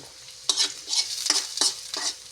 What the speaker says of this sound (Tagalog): igigisa ko itong langka. Ayan ang bawang